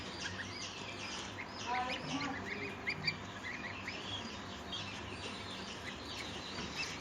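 Ducks quack and chirp continuously at moderate volume, with overlapping high calls and softer chatter against a steady outdoor background.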